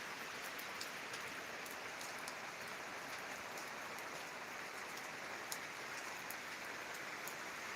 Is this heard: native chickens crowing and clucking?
no